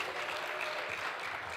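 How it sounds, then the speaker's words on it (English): An audience at a business conference held in a church applauds, a short, steady wash of many hands clapping at moderate distance with no talk over it. "let's clap, let's make some noise"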